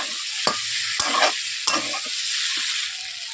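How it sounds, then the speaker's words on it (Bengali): Small new potatoes sautéing with salt in a hot pan for niramish aloo dum: a steady bright sizzle broken by three or four close scraping stirs, with no voices. "এরপর আমি সার মতো নুন দিয়ে দিচ্ছি আলুগুলোকে এইভাবে আমি একটু অল্প করে সেটো করে নিচ্ছি"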